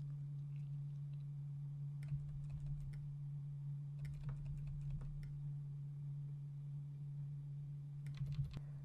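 Scattered clusters of soft keyboard key presses, a few quick taps at a time, over a steady low electrical hum.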